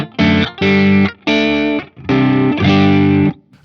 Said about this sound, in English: So your guitar sounds like this.